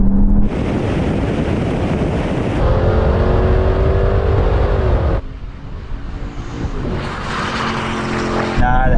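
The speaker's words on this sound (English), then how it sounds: "Now the Hennessy is coming past the Porsche." A Hennessy, a Porsche and an Audi in a rolling drag race: loud, sustained engine roar with heavy wind buffeting, the tone shifting abruptly as the cars pull past one another.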